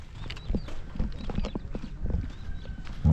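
Hooves clip-clop in an uneven walking rhythm on a hard surface, with a horse snorting faintly and a soft crowd murmur behind.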